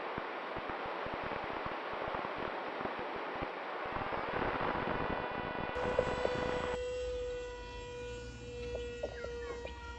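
A model airplane on a landing approach to a new runway, its motor whine rising as a steady, sustained tone after a stretch of gusty outdoor wind noise, fairly close and clear.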